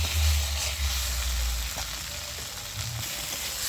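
Fried potatoes are stirred into a spiced masala in a pan for a fish curry. The pan gives a steady, close sizzle with occasional scraping stir noises and no talk.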